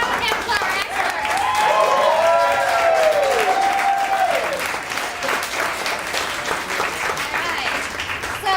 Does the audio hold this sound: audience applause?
yes